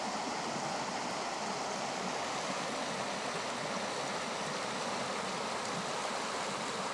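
Water rushes steadily along a stream running higher after recent rain, a dense, continuous broadband roar with no pauses, close and loud.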